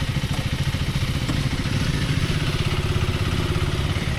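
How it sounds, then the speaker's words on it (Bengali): Several KTM Adventure 390 motorcycles idle together after starting, a steady, pulsing, low engine thrum heard close and loud without speech. "দেখতে পাচ্ছ 3টে বাইক স্টার্ট হয়ে গেছে, আমার বাইকও স্টার্ট হয়ে গেছে।"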